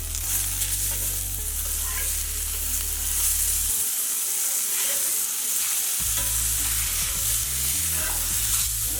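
Chicken slider patties fry in a hot pan, a steady loud sizzle with stirring and spatula scrapes as they are pressed and flipped, briefly quieting midway before the crackle resumes.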